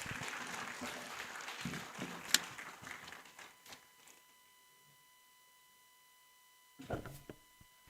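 Conference audience applause from the first day of the E2A 2025 Conference, a burst of clapping in a hall that fades to quiet, then a brief second flurry near the end.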